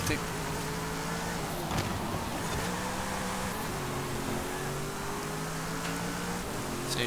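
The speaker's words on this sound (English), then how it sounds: "So as you probably can hear, it's got a V8." Alfa Romeo 8C Competizione with a 5-litre V8 racing in Forza Horizon 5: a steady engine drone rising and falling through gear changes, sitting mid-level under constant commentary and surrounding traffic.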